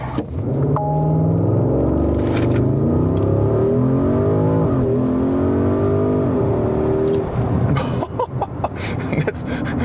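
A turbocharged SUV coupé in Sport Plus mode launches uphill under launch control, its engine roaring loud and steady as it revs up through the gears, with a brief dip at each shift.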